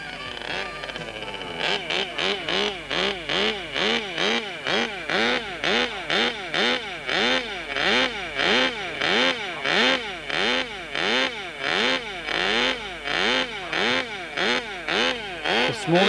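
A miniature motorcycle with a 6.5cc glow engine buzzes loudly and steadily, its high-pitched whine rising and falling in regular surges for the whole stretch, with no talk over it.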